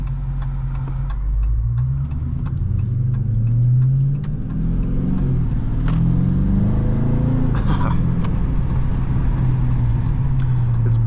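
A 2021 Dodge Charger R/T with a HEMI V8 accelerates, its deep engine rumble rising and falling through gear changes. Heard steadily from inside the car, with light ticking and no talking.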